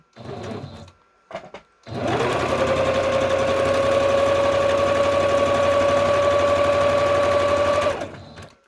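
Electric sewing machine running a straight stitch on a fabric pocket, a brief start-stop burst and then a steady loud whirring hum with a rapid needle rhythm for several seconds before stopping.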